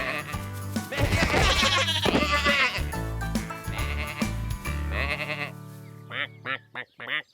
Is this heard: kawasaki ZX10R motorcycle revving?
no